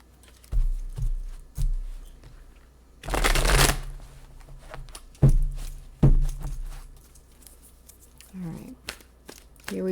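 Tarot cards shuffled by hand in a few loud riffling bursts with soft handling noise between, close up, as a voice talks in the pauses.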